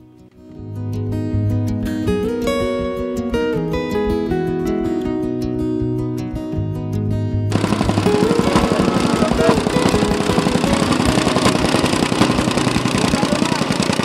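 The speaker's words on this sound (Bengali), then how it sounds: "এই মেশিন দ্বারা মাটিতে প্রেসার দিয়ে মাটি শক্ত করা হচ্ছে।" A soil compactor presses down earth beside a four-lane highway overpass under construction on the Dhaka–Rangpur road. A dense, steady mechanical roar dominates the second half, preceded by a tonal, humming passage.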